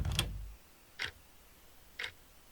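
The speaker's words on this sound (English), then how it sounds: "Only sound of the clock, I guess that's the clock, could be heard" A room clock ticking in the visual novel Morenatsu, three faint, evenly spaced ticks about a second apart in a quiet room.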